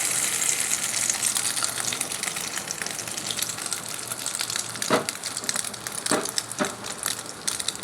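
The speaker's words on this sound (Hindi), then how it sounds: "अब इसको अंडे में डिप करके फ्राई कर लेंगे" Egg-dipped potato chicken cutlets fry in hot oil in a frying pan, giving a steady, dense sizzle with a few sharper crackling bursts near the end.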